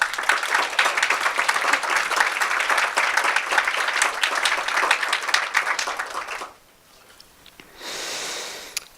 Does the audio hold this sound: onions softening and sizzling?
no